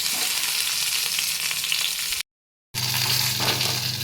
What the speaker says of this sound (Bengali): কড়াতে আমি তেল দিয়ে দিয়েছি তেলটা আমার গরম হয়ে গেছে এবার আমি মাছটা তেলের মধ্যে দিয়ে দিলাম